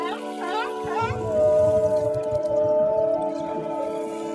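Long, wavering whale calls rise and slide in pitch, some sweeping up sharply, others drawn out, heard clearly in a muffled underwater setting.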